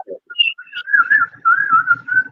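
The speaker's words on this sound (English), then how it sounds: "Anyone can whistle." A person whistles a short, wavering melodic phrase, clear and close, with brief pauses between notes and no other sounds around it.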